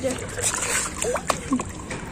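Neem oil and water emulsion, frothing as it mixes, is poured into a plant sprayer, giving a wet splashing slosh throughout while a person talks over it.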